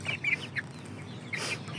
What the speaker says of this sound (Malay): Tapi ada ibu ayam kat luar ni kan.